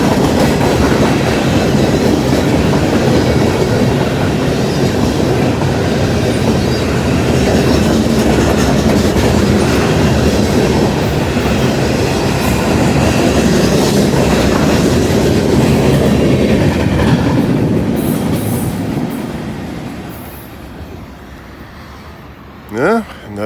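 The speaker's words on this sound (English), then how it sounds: "Yeah, another short train." A short freight train rolls past close by with a loud, continuous rumble and rhythmic wheel clatter, fading away near the end as quiet returns.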